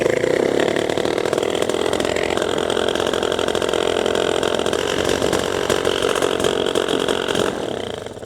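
Paramotor (PPG) engine with a Walbro carburetor running steadily at high idle revs, a loud continuous buzzing drone close by that stays even for the whole stretch before easing slightly at the end.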